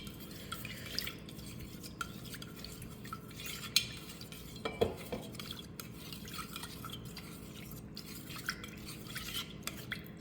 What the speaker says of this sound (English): Then I will use this spoon to stir it.